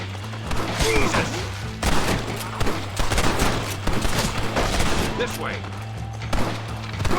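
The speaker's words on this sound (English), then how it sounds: "Damn it, why are you shooting?" Repeated gunfire and volleys of shots in a Red Dead Redemption firefight, loud and continuous across the scene with shouted voices over a steady low hum.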